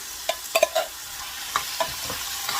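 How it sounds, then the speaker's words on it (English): Drained black beans and softened onions frying in a pan are stirred, steady sizzling under several distinct scraping clicks of a utensil against the pan. "Just going to stir it together."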